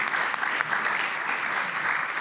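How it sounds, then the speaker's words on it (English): A conference audience claps for its speakers, a short, even burst of applause from many people at moderate loudness with no other sounds standing out. "A round of applause to our fantastic speakers."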